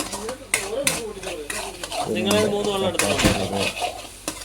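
Spoon stirring and scraping potatoes with cumin in a pan for aloo jeera, with clinks against the pan and a light sizzle under a steady scrape, while a person talks throughout.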